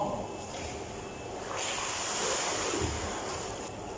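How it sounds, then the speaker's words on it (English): Hot tub spa jets switch on with a steady broadband rush of churning bubbles and water that grows slightly louder partway through and continues without pause. "I'm gonna turn on the bubbles."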